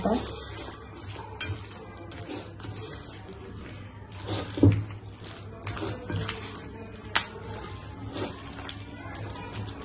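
Peanut chikki mixture with dry fruits being stirred quickly in a pot, with spoon scraping and clinking against the metal pan at close range and a louder clatter midway, under a steady low background hum.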